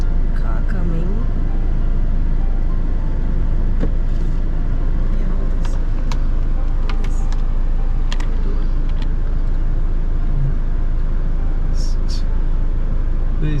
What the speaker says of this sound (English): Careful, there's a car coming.